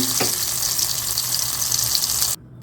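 Tomatoes roasting directly on a stove for a black chutney give off a continuous hissing sizzle that cuts off abruptly near the end.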